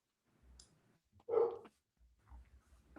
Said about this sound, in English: I don't know if it's because of the dogs barking in the background too.